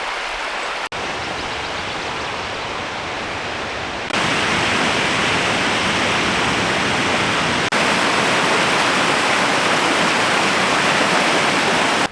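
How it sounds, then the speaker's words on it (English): Cox's Cove waterfall in Newfoundland rushing steadily, a broad continuous roar of falling water with a few abrupt level shifts, no voices. "at what's called Cox's Cove waterfall"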